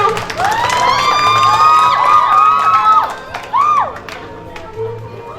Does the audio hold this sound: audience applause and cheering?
yes